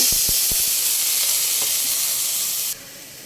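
Water poured into a hot pan of frying shrimp and onion makes a loud hiss and steamy sizzle with a few clicks of a utensil, then the sound drops suddenly near the end.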